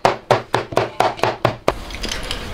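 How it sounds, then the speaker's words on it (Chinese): Seven sharp cleaver chops land in a quick, steady rhythm on store-bought minced meat filling on a cutting board, close and loud, followed by a brief softer rustle. "再剁一下。"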